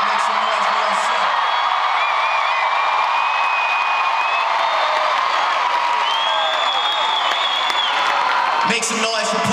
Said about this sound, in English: Make some noise for yourself.